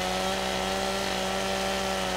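Chainsaw engine running steadily while cutting a tree in the video game Farming Simulator 2015, a continuous droning buzz with strong harmonic whine, loud and alone throughout.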